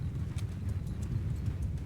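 Horse hooves clip-clop at a steady trotting rhythm in the medieval battle game Mount & Blade II Bannerlord, a moderately loud, continuous patter of hoofbeats with no talk over it.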